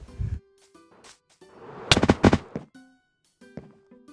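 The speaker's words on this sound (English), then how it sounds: "using my elytra and some fireworks" Minecraft firework rockets boost elytra flight in a quick cluster of sharp, crackling pops near the middle, with quieter game sounds before and after.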